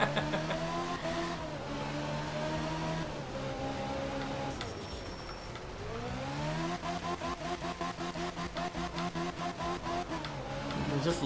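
Rally car engine in the Art of Rally video game held on the second-gear limiter, a steady droning rev that dips and climbs, then stutters in rapid rhythmic pulses as it bounces off the limiter.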